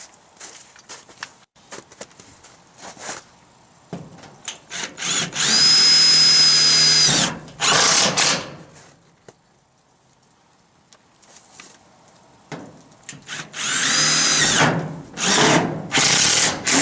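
Power drill driving screws into steel wall sheets on a tractor shed, several loud whirring bursts of a few seconds each separated by quiet gaps and light handling noises.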